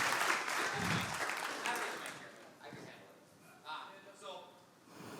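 An audience at a chamber of commerce live event hosted by Infinite Eye Care claps and cheers, a dense round of applause that is loudest at first and then tapers off, heard from some distance.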